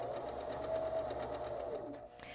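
A sewing machine stitches a blind hem with a steady, close mechanical whir that runs unbroken and stops near the end.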